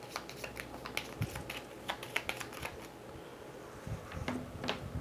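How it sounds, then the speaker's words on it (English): A fate card being shuffled into the deck of This War of Mine board game, heard as close, rapid papery riffles and taps of cards handled on a table, steady for several seconds. "Shuffle in that fate card."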